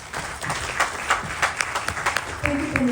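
Scattered hand claps from a small audience at a Ganesh Chaturthi celebration, uneven and moderately loud, mixed with murmuring voices and a brief tonal sound near the end.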